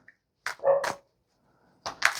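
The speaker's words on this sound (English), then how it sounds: "I don't know, she barked." A pet dog gives a couple of short, moderately close barks indoors, with a brief pause between the first pair and a final yip, no talk over them.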